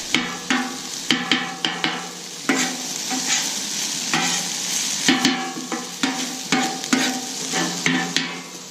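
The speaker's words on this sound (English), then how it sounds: "Keep flipping, get a nice little brown on there." Food fries with butter on a Camp Chef 600 four-burner flat top griddle: a constant close sizzle broken by repeated sharp metallic scrapes and taps of a spatula flipping and stirring.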